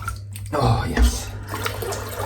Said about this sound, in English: Just rinse the sink out. Rinse the brush out.